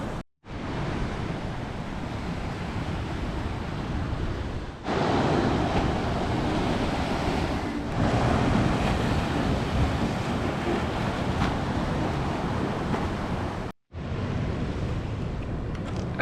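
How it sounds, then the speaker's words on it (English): Choppy sea waves wash against the coast in a broad, continuous roar, heavy with wind buffeting the microphone, with two short cut-outs where the sound drops away. "The waves are a bit choppy"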